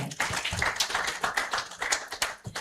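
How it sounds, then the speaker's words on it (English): A crowd at a national forum applauds for a couple of seconds, a dense, steady patter of many hands clapping fairly close, with some individual claps standing out. "a round of applause once again for him"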